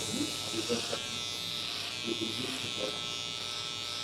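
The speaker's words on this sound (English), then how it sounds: "So shave everything off the beard." Electric clippers shave off a full beard during a buzz cut, giving a steady close buzz under intermittent talking.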